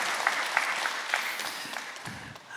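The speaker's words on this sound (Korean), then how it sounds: "이럴 때 박수도 치셔야 된대." Church congregation clapping during a Sunday sermon, a steady wash of hand claps filling the room at moderate volume for a few seconds, with no talking over it.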